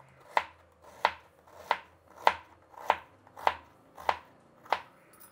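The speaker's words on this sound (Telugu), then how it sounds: "ఇక్కడ చూడండి, ఎర్రగడ్డలు కూడా అంతే సన్నగా కట్ చేస్తున్నాను." A knife slicing red onions thinly on a board, eight crisp evenly spaced chops about two thirds of a second apart, near and clear over a quiet background, with no voices.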